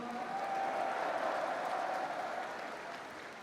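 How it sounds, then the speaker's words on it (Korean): Crowd applause at a political party founding event, a dense burst of clapping that swells briefly then tapers off over a few seconds. "뜨거운 박수 주세요."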